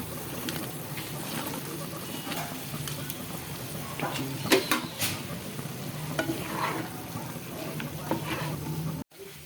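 Chicken pieces for dragon chicken tossed into a hot pan with soy sauce, frying with a steady loud sizzle while a utensil scrapes and stirs through them in irregular strokes, ending in an abrupt cut.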